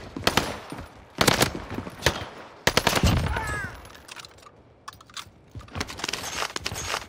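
H4 Blixen firing in Call of Duty on Rebirth Island, several loud rapid-fire bursts separated by short pauses, with game effects in between.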